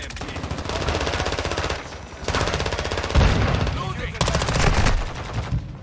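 Dense automatic gunfire in Call of Duty Modern Warfare 2 at a shoot house, SMG bursts rattling almost without pause, loud and close, with game voice lines underneath.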